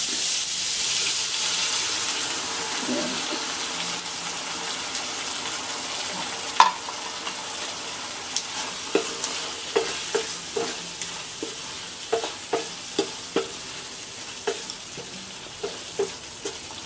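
Banana heart and vegetables cooking in coconut milk, a steady loud bubbling simmer with a sizzling hiss and occasional soft clinks of a utensil against the pot, no voices.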